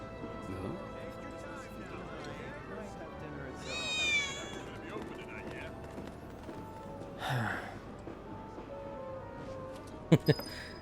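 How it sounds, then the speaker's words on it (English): A cat meows once in Final Fantasy VII Remake, a drawn-out call over a steady bed of game ambience, with a couple of sharp clicks near the end. "I think one of Betty's cats might be nearby. I did hear a cat."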